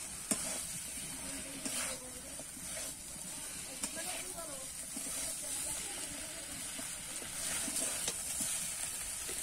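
Fried cauliflower stirred into a spice masala in a pan, a low steady sizzle with intermittent scraping and clinks of a spoon, faint and close, with a voice talking over it.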